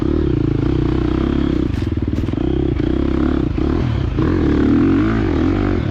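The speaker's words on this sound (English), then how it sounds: "Laying the bike over in the trees here." A KTM 350 XC-F dirt bike engine drones loud and close throughout as the rider lays it over among trees, with clattering and scraping from the terrain and brief shifts in engine pitch.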